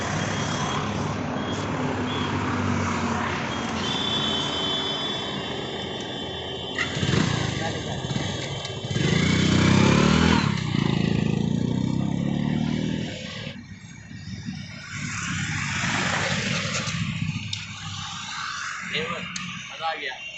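A freshly serviced motorcycle runs steadily on a test ride, its engine droning and rising in pitch, with wind noise and a voice heard in places.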